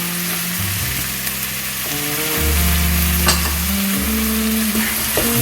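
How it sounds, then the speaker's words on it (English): Chopped garlic hitting a pan of sautéed onions, a continuous close sizzle and crackle with some stirring and faint clatter, no voices. "Now I'm going to add some chopped garlic to it"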